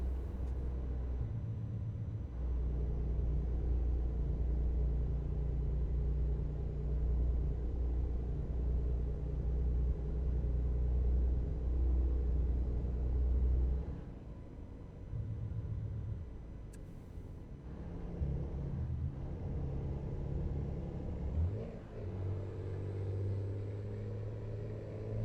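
A big truck engine in American Truck Simulator drones steadily at night, a low heavy rumble with a shift partway through and a brief gear change before the drone settles again.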